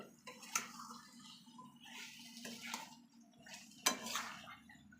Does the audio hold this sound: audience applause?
no